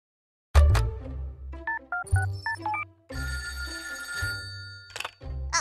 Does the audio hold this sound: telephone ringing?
yes